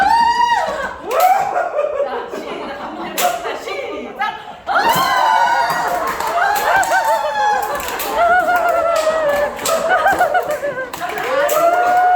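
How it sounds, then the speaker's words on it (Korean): A group of people claps their hands in an indoor gathering, with irregular bursts of clapping mixed with laughter and loud, animated voices. "박수를 해주면서"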